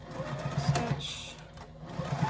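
Sewing machine stitching a fabric placemat, a steady fast rhythmic needle chatter with a low mechanical hum, close and fairly quiet, running alone without talk.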